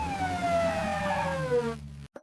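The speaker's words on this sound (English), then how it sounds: "A is for ambulance." An ambulance siren wails in a long falling tone, fairly close, then cuts off abruptly near the end, followed by a short blip of sound.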